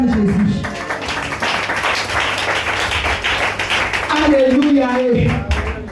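A congregation at a French-language worship vigil claps and cheers loudly, the applause dense and sustained for several seconds, with voices shouting over it and a speaker's voice rising near the end.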